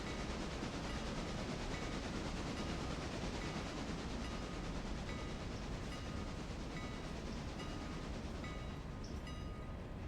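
A train in the video game Railroader rolls steadily along the rails with a constant rumbling roar and faint rhythmic clatter, quiet and continuous, with no voices.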